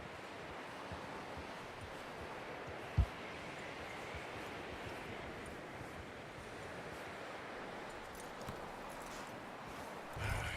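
Horse hooves clop on the ground in the Red Dead Redemption video game, soft and steady under a wash of wind-like ambient noise, with no talk.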